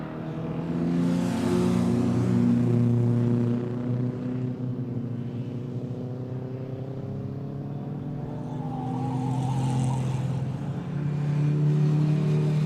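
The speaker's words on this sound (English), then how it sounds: "Red car, the Iona Special, and McAvoy's very quick little" Historic race cars, the red Iona Special among them, battle on a circuit, with a loud sustained engine roar whose pitch rises and falls as they run close by, nearer at the start and again late on.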